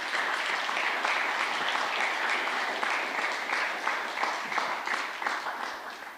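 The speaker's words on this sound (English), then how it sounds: "So can we give them all a big round of applause?" An audience at a panel discussion on activism and gun violence gives the panelists a big round of applause, full, steady clapping throughout, close and even, easing slightly at the very end.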